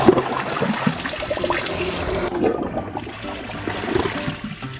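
A coated toilet in a brand comparison test (TOTO, HCG, Caesar or Kohler) flushes a large volume through a five-level swirl flush: a loud, close rush for about two seconds, then a quieter trickle and refill.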